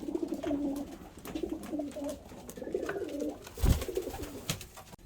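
Pigeons kept for flying and trapping coo steadily in low, throaty rolling phrases nearby, with occasional soft wing flutters or shuffles in the loft.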